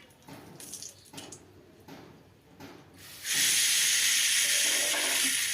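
Tempering is poured into a pot of khichuri. After a few seconds of quiet kitchen shuffling, a sudden loud, hissing sizzle bursts up and holds steady to the end.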